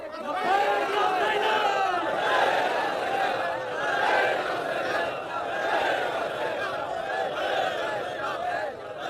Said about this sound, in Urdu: آپ کے یہ نعرے ادھورے نعرے ہیں. پورا مجمع نہیں پکار رہا.